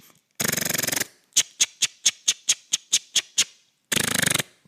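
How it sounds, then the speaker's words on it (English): Impact sprinkler ratcheting, alone: a loud sustained burst of rapid buzzing clicks, then a steady run of about ten evenly spaced sharp ticks, then another fast rattling burst. "Affordable, simple, and proven is an impact sprinkler."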